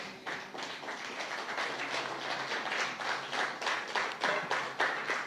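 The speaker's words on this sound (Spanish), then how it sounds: "Démosle un aplauso al Señor." Congregation applause at the close of a church Bible-study class, a steady spread of many hand claps holding at an even level throughout, with no voices over it.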